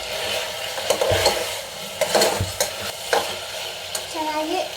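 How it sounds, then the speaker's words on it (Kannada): Peppers fry in a pan for palav with a steady sizzle, punctuated by repeated stirring scrapes and utensil knocks at close range, no voices present. "ಮೆಣಸು ಚೆನ್ನಾಗಿ ಫ್ರೈ ಮಾಡ್ಕೋಬೇಕು ಅಂತ."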